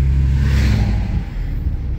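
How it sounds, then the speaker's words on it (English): A car passes on the road in a loud, low rumbling roar that swells and then eases off over a steady engine drone. "there's a car coming"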